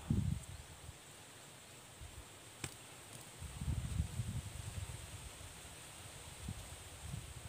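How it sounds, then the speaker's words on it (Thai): Wind gusts through rustling leaves outdoors at an eel-trapping spot, a soft steady rush with louder low buffeting swells at the start and in the middle, fairly faint and with no talking. "ลมโชยมาแล้ว"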